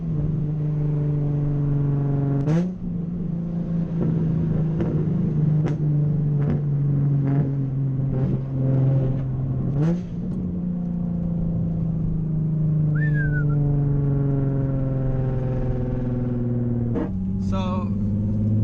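A Nissan 350Z with a loud aftermarket exhaust drones along, then blips sharply on a downshift, with repeated throttle surges and brief pops over a steady, close engine rumble.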